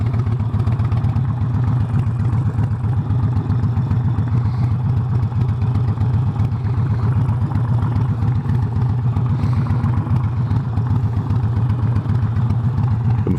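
A 2006 Harley-Davidson XL1200R Sportster idles steadily and close by, with a deep, even, loping rumble and a light mechanical clatter that runs without a break and without any voices.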